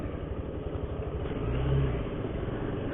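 A Hero Xtreme 160R BS6 motorcycle with a 160cc single engine runs steadily while being ridden, a low continuous drone mixed with road and wind rumble that swells slightly in the middle before settling back.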